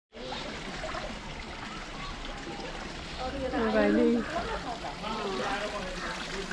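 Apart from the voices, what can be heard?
water being poured as offering at Arjundhara temple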